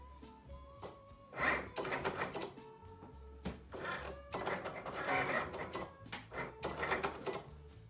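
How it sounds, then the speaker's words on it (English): A Cricut Explore Air 2 cutting machine running in fast mode gives off rapid whirring motor runs and clattering carriage movements in repeated bursts, close and steady, with short pauses between passes and no talk. "So we're gonna do fast mode just to see what happens. I think this makes it go even faster than I did last time."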